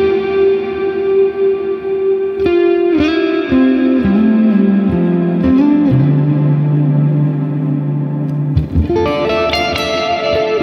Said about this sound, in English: this one just shows off how good the reverb is on this plugin